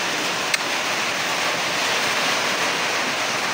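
Strong wind blowing steadily outdoors, a loud broadband roar with microphone buffeting, continuous and unbroken for the whole stretch, with no voices.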